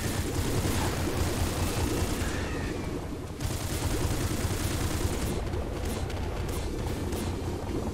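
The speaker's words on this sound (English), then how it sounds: "Now he fires splinters." Dense gunfire in the video game Nuclear Throne as an ally fires splinters, a continuous loud barrage of rapid shots and impacts with no break across the whole stretch.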